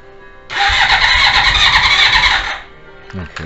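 A 1979 Honda CB750 DOHC motorcycle being started: the starter whirs and the engine cranks loudly for about two seconds without catching, then cuts off, followed by a brief voice.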